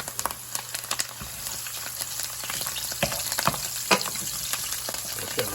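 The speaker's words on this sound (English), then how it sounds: "We're also going to fry out parsley in there." Parsley fries in oil in a pan for a large batch of Sicilian spaghetti, a close, crackling sizzle with sharp pops and spatters and no talk.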